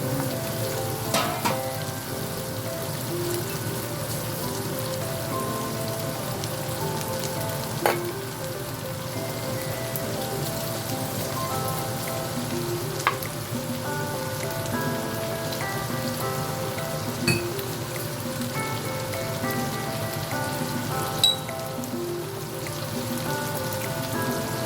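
Four crabs fry in a pan with steady sizzling and popping oil, a continuous crackle broken by an occasional sharp spatter or clink, close and alone with no talking.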